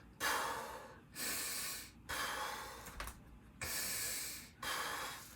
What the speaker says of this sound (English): So if you learn belly breathing